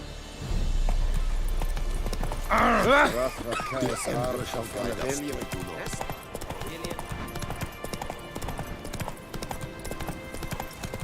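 Geralt's horse Roach galloping in The Witcher 3, rhythmic hoof clip-clops under game music and a horse's whinny, with a voice speaking over it.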